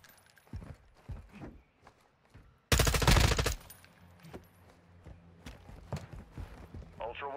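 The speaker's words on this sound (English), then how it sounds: "You are taking effective fire." Burst of automatic gunfire in the online shooter Call of Duty DMZ, a loud dense volley of about a second standing out midway through quieter game sounds, footsteps and radio chatter.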